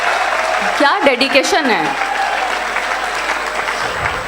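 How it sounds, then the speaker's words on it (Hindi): Audience at a Hindi comedy poetry gathering claps loudly and continuously while a voice speaks briefly over the applause near the start, the clapping carrying on throughout. "मैं चाहती हूँ एक बार आप उनके लिए तालियां बजाएं।"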